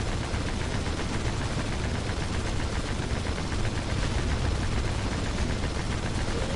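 Dense, continuous rapid gunfire in the video game Red Faction II, a loud unbroken stream of overlapping shots like a machine gun, with no talk.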